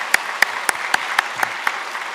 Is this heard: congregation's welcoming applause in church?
yes